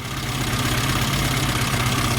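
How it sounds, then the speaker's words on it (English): A car engine with a newly fitted carburettor idles steadily, a loud, continuous low rumble with an even pulsing throb throughout and no talking. "new carb on, engine's running"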